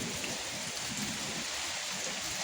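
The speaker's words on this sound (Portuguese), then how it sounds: "E tá chovendo muito, é sério." Heavy rain pours down steadily on surfaces outside, a dense, constant hiss with no letup, close and fairly loud.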